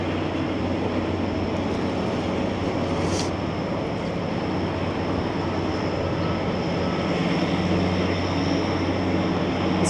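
A helicopter flies over downtown Toronto near St. Michael's Hospital, a steady loud engine drone that fills the busy street with a constant rumble throughout.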